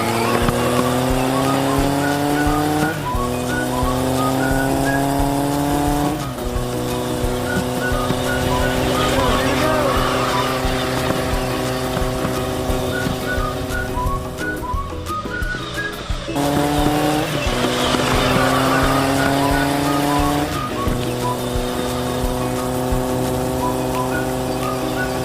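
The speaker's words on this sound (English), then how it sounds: "Xander got his go-kart out. Gonna take it around and do a couple laps." A kid's go-kart engine droning steadily as it drives laps in the woods, its pitch climbing and dropping repeatedly as it speeds up and slows, loud and close throughout.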